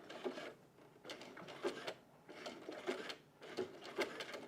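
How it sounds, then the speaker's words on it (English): Short repeated bursts of a domestic sewing machine stitching through a bralette cup, quiet and close with brief pauses between runs. "so I'm just going to sew a little bit"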